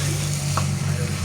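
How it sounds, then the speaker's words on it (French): Sausages stirred in a frying pan, a close, steady sizzle under a low hum with a brief scrape of the utensil partway through. "Là, on mélange bien"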